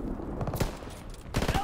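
Two brief bursts of gunfire strike the player in a shooter video game during sniper gameplay, loud and clipped, one near the start and a second rapid volley near the end.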